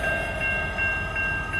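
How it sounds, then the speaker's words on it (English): An Illinois Central grain train sits stopped on the tracks at a crossing in Effingham, Illinois, giving off a steady, loud rumble with high tonal whines and faint rhythmic knocks, and no one talking. "no one's going because the train's sitting right there"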